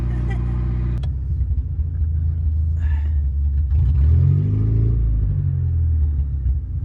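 A rusty junkyard Nissan's engine rumbles low and steady, then revs and climbs as the car moves off, while people talk over it.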